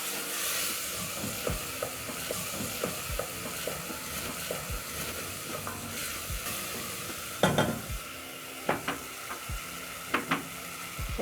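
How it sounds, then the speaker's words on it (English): Tomatoes for githeri cook in a pot with a soft sizzle, while a spoon stirs and scrapes in irregular knocks that grow louder and sharper toward the end; no talking. "As my tomatoes cook,"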